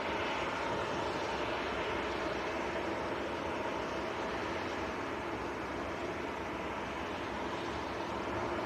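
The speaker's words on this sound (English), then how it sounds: "Sun Express just taxiing in." A SunExpress airliner taxis at Manchester Airport, its engines a steady, faint, distant jet roar that holds unchanged throughout.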